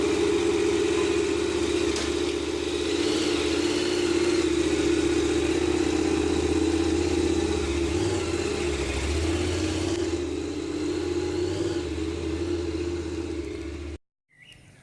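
A kick-started motorcycle engine runs at a steady, loud idle nearby with slight swells in pitch, then cuts off abruptly near the end.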